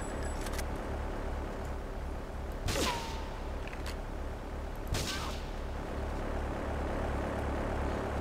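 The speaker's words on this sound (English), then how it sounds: "Oh shit, the plane!" A propeller airplane drones overhead in Grand Theft Auto III, its engine hum running under sharp bursts of gunfire, fairly quiet and distant in the game mix.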